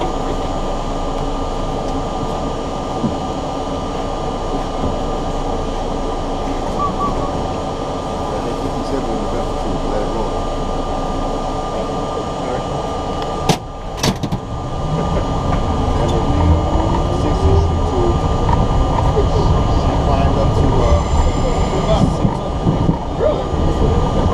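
An NYC subway R32 Q express train runs toward Manhattan, giving a loud continuous rumble and wheel roar throughout, with a brief clunk midway before the running noise grows slightly heavier.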